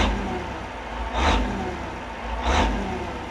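The engine of a Ford FW30 tractor, rated at 300 horsepower, runs steadily up close and swells twice into short revs.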